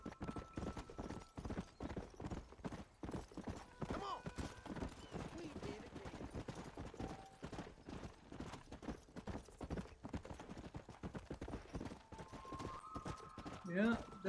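Horse hooves clip-clop steadily in the Red Dead Redemption video game, a continuous rhythmic trot running throughout at moderate level, with a brief whinny-like sound near the end and a voice talking over it.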